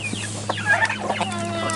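Farm chickens cluck close by, several quick overlapping clucks and short calls over a steady low background hum.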